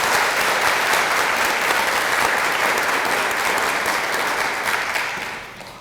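Honors ceremony audience applauding students' accomplishments, a loud, sustained sheet of clapping from a large crowd that tapers off at the close.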